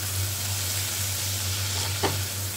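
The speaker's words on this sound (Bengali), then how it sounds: "এবার এই মশলাগুলো দিয়ে নেড়ে নেব" Fish head frying with garam masala and other spices in a pan, giving a continuous hiss and sizzle with a low steady hum underneath and one brief scrape from the stirring spoon.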